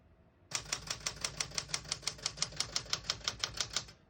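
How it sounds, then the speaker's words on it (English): Steady run of crisp key strikes on a 1967-1970 Citation vintage portable typewriter, about twenty evenly paced clacks in quick rhythm, close and clear with no talking. "We're going to keep it on single for now and finish typing."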